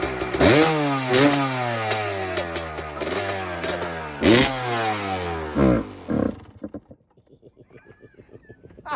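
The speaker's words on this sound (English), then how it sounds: "2002 KX250 two-stroke versus a brand new Stark Varg. First the two-stroke." A 2002 Kawasaki KX250 two-stroke dirt bike revs loudly and close in a series of sharp rising blips over a crackling idle, then sputters down to an uneven, popping low idle as if struggling in cold weather.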